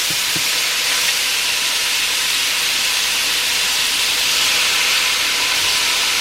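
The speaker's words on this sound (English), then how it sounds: "my pan is smoking again, I'm going to go in with my shrimp. I'm going to cook those shrimp up" Shrimp sizzling in a smoking hot stir-fry pan, a loud, steady, close hiss and crackle that continues without a break and without any talk.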